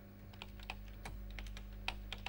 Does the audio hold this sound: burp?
no